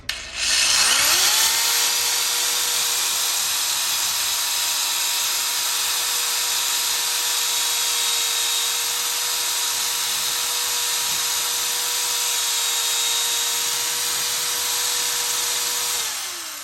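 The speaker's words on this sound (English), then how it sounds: "I'm going to take the opportunity to drill this hole out, make it a little bit wider." A power drill widens a hole in a wall while an over-the-range microwave is being replaced, making one continuous steady whine that spins up at the start and runs near and loud for about fifteen seconds before winding down, with no talking.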